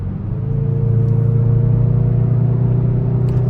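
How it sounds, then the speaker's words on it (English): A 2024 Hyundai i30N idles with a steady, loud engine and exhaust rumble, a deep continuous drone with a faint rise in revs throughout. "Everything you hear from this car is from the engine, the exhaust."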